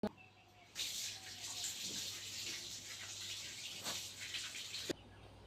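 A cloth being washed under running water makes a soft, steady rush of flowing water with a few faint splashes, fairly quiet and continuous for about four seconds, starting and stopping abruptly.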